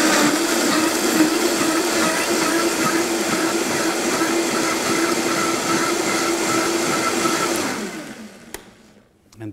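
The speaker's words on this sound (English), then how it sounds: "The beauty of this blender is a little bit noisy" A blender runs steadily and loudly while mixing ingredients for a Mexican dish, its motor whirring continuously for about eight seconds before winding down and stopping near the end.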